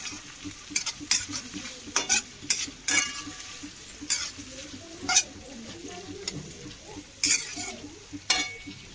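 Cumin and mustard seeds crackle and sizzle in hot oil in a pan while a metal spoon knocks and scrapes at irregular intervals; no one speaks.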